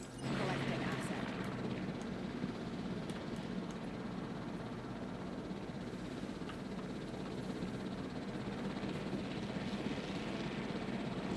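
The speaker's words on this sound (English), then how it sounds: "This helicopter should be going down currently." A helicopter in the video game Jurassic World Evolution gives a steady, droning rotor-and-engine rumble that holds at an even level throughout, with talk over it.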